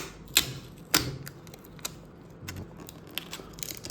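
A security seal on a SteelSeries Nova 5P headset box is torn, heard as two sharp close ripping snaps followed by softer crinkles and small taps of cardboard handling, with quiet gaps in between.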